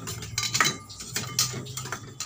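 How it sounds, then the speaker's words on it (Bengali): Yogurt (doi) whisked in a bowl for dahi vada, with quick irregular clinks and scrapes of a utensil against the bowl, close and fairly loud, no voices. "দই ফেটে নেব।"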